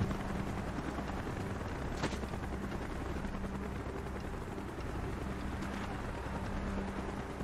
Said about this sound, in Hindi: आप ऊपर देख सकते हैं हेलीकॉप्टर घूम रहा है